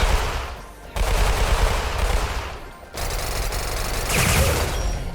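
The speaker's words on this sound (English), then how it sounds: "That's the AA-12." Gunfire from an AA-12 automatic shotgun in a Roblox weird-gun game, loud dense bursts of shots with short pauses between volleys, continuous and close.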